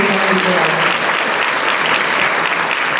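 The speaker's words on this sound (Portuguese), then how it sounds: "uma passada de palmas para a APA" Loud, dense applause from an audience at a cultural forum panel in São Paulo, continuous clapping from a packed room, close and even over a few seconds.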